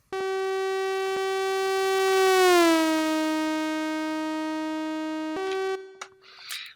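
Siren tone processed with a left/right time and pitch offset effect, a steady rising-and-falling wail that bends downward midway, then a short burst and a cutoff near the end, alone without speech.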